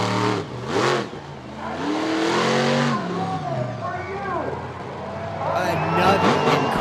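Stone Crusher monster truck, driven by Steve Sims, revving hard during a freestyle run at Charlotte Motor Speedway in North Carolina, loud rising and falling engine surges close by, with commentary talk mixed in.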